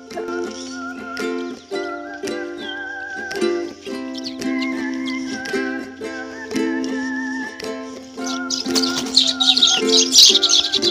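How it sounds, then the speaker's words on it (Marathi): Sparrows perched on an overhead wire behind a house chirp continuously, a dense flock of bright, overlapping tweets close by, growing busier and louder toward the end. "चिमण्या पक्षी आहे पहा"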